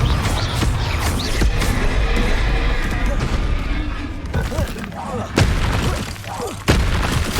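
Confringo fire-blast spells in Hogwarts Legacy on Xbox Series X, loud booming bursts amid dense chaotic combat noise, with sharp impacts near 5.4 and 6.7 seconds and shouted spell incantations throughout.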